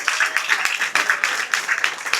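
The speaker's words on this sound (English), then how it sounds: "Can we get a round of applause for Ryan also?" Wedding guests applauding, a dense burst of many hands clapping steadily at moderate distance throughout, with a faint voice mixed in.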